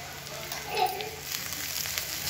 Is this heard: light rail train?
no